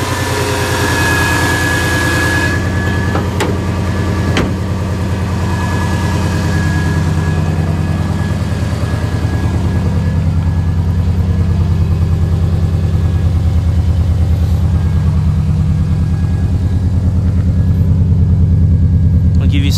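A 2001 Subaru Forester engine runs steadily, idling with a low rumbling hum that swells slightly toward the end, close and loud throughout.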